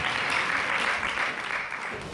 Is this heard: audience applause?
yes